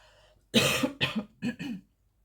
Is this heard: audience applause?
no